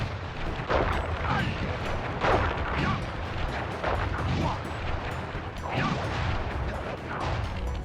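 Firework blasts from a boss's Flame Fu attack in the Sly Cooper and the Thievius Raccoonus video game go off in a dense, continuous barrage of booming, crackling bursts that hit every second or so at steady, loud volume.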